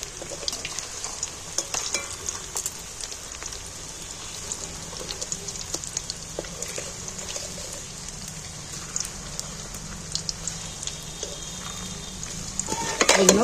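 Jackfruit pieces fry in hot oil in a home kitchen, giving a continuous crackling sizzle with scattered sharp pops and occasional scraping as pieces are turned, steady and close throughout.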